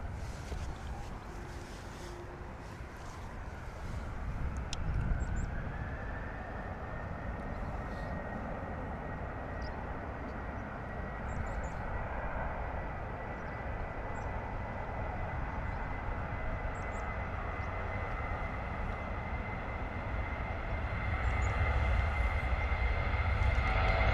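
An AJet Airbus A321 departs London Stansted Airport as a steady, broad jet engine roar that builds gradually and swells louder toward the end, heard from a distance with no talk.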